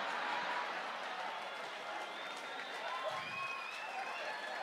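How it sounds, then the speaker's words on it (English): Steady applause and clapping with some crowd noise from an audience at a Sunday comedy improv show in Ontario, a dense wash of claps throughout with faint voices and laughter in the background. "Look at her dad is clapping."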